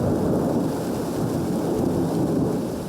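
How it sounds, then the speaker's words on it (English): A passing rain shower falls at dawn, a steady, close hiss of drops with a low rumbling undertone and no voices. "and it's raining again."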